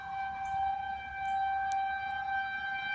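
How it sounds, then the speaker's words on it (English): Tornado warning sirens sound outdoors as a sustained, slowly wavering wail at a distance, holding throughout. "Sirens is going off, guys."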